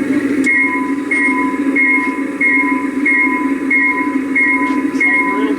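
Ride-on hobby park train rolling along with its drive system running: a steady, loud mechanical hum and rumble with a repeating high whine pulsing at a regular beat, heard close and without talk.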